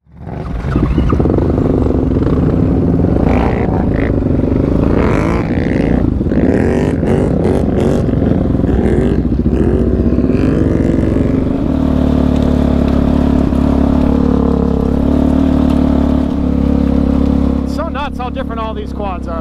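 Quad ATVs on a dusty off-road trail, engines droning loud and close with rising revs, clatter and rustle over rough ground, while people talk over the machines.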